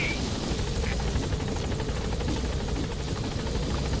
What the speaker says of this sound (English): The support helicopter has arrived.